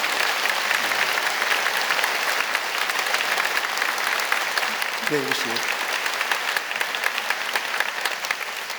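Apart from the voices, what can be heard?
church congregation applauding to welcome guests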